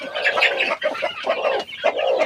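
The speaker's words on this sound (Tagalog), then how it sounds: "ipapakita ko sa inyo yung ating mga sisiw" Chickens cluck and peep in a close, busy chorus on a poultry farm among newly hatched chicks, overlapping high calls with brief pauses.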